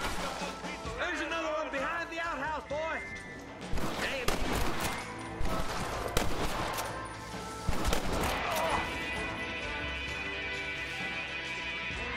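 Gunfire in the Red Dead Redemption video game comes as repeated loud shots and bursts, including a headshot, mixed with game music and in-game voices.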